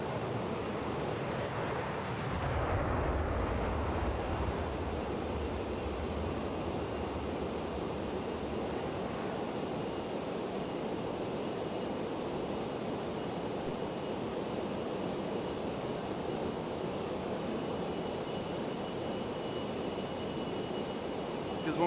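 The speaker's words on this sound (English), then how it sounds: "Is that from the engine audio? Is there like an extra clip in the audio file?" An aircraft engine drones in Microsoft Flight Simulator 2024, a steady, wind-like roar that swells briefly near the start, then holds at an even level throughout.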